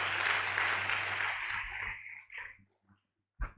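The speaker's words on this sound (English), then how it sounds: "Please, let's give her a round of applause again." Audience applause for someone speaker at a reading and literacy lecture, a broad wash of clapping that starts full and gradually thins and fades out, ending with a couple of faint scattered sounds.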